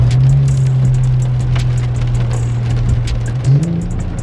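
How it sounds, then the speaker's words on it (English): An SRT truck's engine revs as it passes nearby, a loud sustained low drone rising in pitch near the end as it accelerates away. "Yeah, that's definitely SRT truck."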